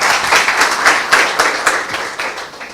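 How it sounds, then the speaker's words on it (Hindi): A church congregation claps during a sermon, a loud, dense, steady round of applause with no voices over it, easing off slightly toward the end. "मैं चाहता हूं सबसे पहले इस वचन की ताली बजाइए।"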